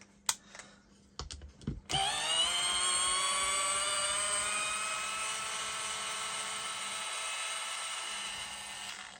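A late-1980s Makita 4.8V cordless drill, fitted with a new battery, clicks a few times and then spins up into a steady high-pitched motor whine that runs continuously, close and alone.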